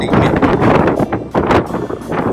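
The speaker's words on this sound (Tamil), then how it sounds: "காத்து சரியான காத்து." Strong wind gusting across an open hilltop on the Seven Sisters cliffs of the South Downs, a loud continuous roar buffeting the microphone, with surges and brief lulls.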